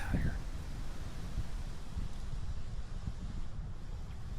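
Steady, blustery wind roars across the microphone outdoors in brushy Missouri hunting country on a very windy day, a continuous low buffeting rumble with gusts and no break throughout.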